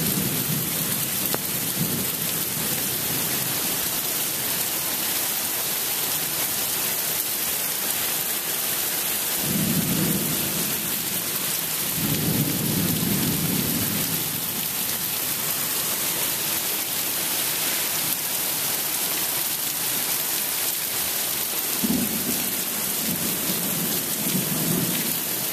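Heavy rain pours steadily during a thunderstorm, with wind and rainwater running off a gutter, while deep rolls of thunder rumble through at intervals, loud and continuous with no talking.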